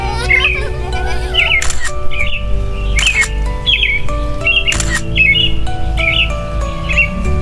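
A small bird chirps and squawks repeatedly in short bright bursts close by, over soft background music, with no talk.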